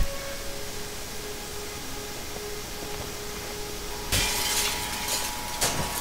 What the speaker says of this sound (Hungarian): És akkor ideje bezúzni azt az ablakot?